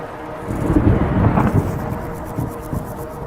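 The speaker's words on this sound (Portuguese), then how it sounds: "o som de trovoadas vai ficando cada vez mais alto e constante, indicando como se uma tempestade estivesse se aproximando" Low rolling thunder from an approaching storm rumbles in the distance. It swells to a heavier peak in the first half, then keeps grumbling more faintly.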